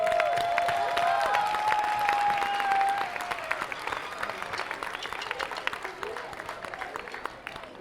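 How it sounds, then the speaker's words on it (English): Audience applause at a fifth-grade end-of-year school music celebration, dense clapping that starts strong with a faint whistle-like tone over it, then thins and tapers toward scattered claps. "Can we just give them one more round of applause?"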